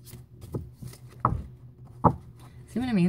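Tarot cards shuffled by hand, with a few separate soft riffling bursts spaced about a second apart, ending as a voice starts speaking.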